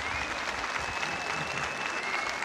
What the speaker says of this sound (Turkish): O zarif alkışlarımıza.